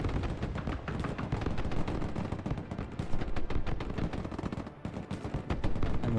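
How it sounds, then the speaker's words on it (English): Video game battle in Broken Arrow with grenade launcher fire striking an M113 armored carrier: dense rapid thuds and blasts overlapping continuously, loud and unrelenting. "M113 taking grenade launcher fire."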